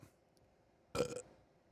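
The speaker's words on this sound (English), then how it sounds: "Rate that burp. That was just a little one." A single small burp, close and fairly loud against a quiet background, lasting about a quarter second.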